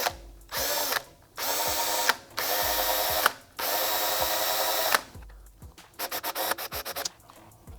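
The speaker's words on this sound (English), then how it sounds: "I take my drill and I just work it by hand so that it gets a nice bite into the plastic" A hand drill bores slowly through plastic on a 2020 Yamaha MT-03 fender eliminator, repeated grinding scraping strokes with short pauses, then quicker ratcheting bursts near the end, close and loud.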